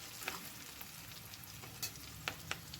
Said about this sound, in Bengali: মিডিয়াম হাই হিটে ভাজবো একদম নিজের মন মতন কালার আসা পর্যন্ত